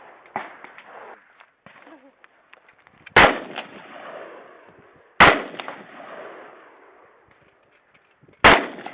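Three loud gunshots at a shooting range crack out about two seconds apart, each trailing off in a long echoing decay, with quieter handling noises in between.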